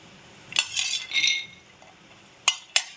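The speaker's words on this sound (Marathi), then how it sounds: "ऑन करते गॅस मिडियम ठेवते आणि खोबरं चांगलं भाजून घेते" Grated coconut roasting in a pan over a medium gas flame, stirred with a utensil that scrapes and clinks against the metal, a few close scrapes followed by two sharp taps near the end.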